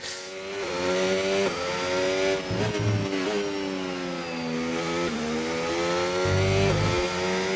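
Race car engine in the F1 25 video game during a Qatar GP sprint race, a loud, close, continuous drone whose pitch climbs and drops repeatedly through gear changes and lift-offs while fuel saving, with no talk.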